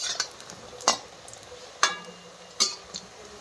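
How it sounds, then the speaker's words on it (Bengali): Pakoras frying in oil during a Punjabi kadhi preparation, with a low, steady sizzle under four sharp metallic clinks and scrapes of a utensil against the pan, spaced roughly a second apart. "এই পাকোড়াটা ভাজা হয়ে গিয়েছে, এখন তুলে নিই।"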